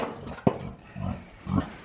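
Baby piglets and their mother pig make a few short grunts and squeals over about two seconds, one sharp squeal followed by two lower grunting bursts, close by with no talk.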